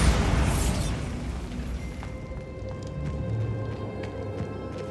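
A Bombarda spell explosion in Hogwarts Legacy, a loud burst at the start that decays into a rumbling wash with faint scattered rattles and debris after.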